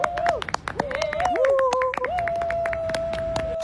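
Hands clap in a quick scattered burst from a small group of people, a comic moment of awkward applause, mixed with voices and a sustained tone running underneath.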